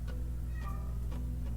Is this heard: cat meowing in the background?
yes